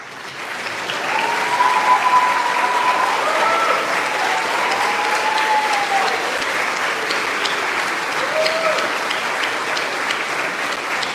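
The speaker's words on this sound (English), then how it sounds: "please stand to receive a round of applause" An audience at a high school commencement ceremony gives teachers a sustained round of applause, a steady, full wash of clapping that swells in after a second and holds evenly for about ten seconds.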